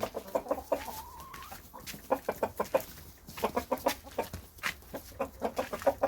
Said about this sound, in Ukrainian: Ось я йду до курей.